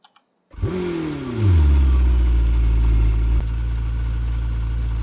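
Lamborghini Temerario engine in the Driving Empire video game cranks after a brief silence, flares with a rising rev, then settles into a loud, steady, deep idle rumble that continues alone.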